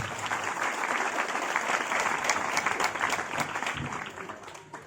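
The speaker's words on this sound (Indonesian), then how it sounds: "Mari tepuk tangan untuk kita semua." A crowd at an Islamic boarding school (pesantren) gathering breaks into continuous applause, a thick, even roar of many clapping hands that stays strong before easing off near the end.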